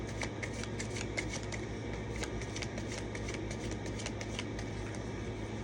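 Playing cards are shuffled over and over in a rapid, crisp riffling patter that runs through the whole clip at close range under a faint steady hum.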